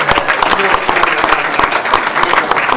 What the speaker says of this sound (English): let's also give Tim Johnson a big round of applause for all the work he did